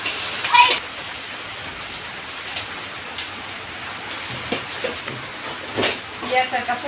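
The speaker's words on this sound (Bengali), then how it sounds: "আর এটা রান্না করতে হচ্ছে বৃষ্টি নামে পড়ছে।" Steady rain falls outdoors in a village while a meal is being cooked, a soft continuous hiss with scattered drips, and a voice talks over it.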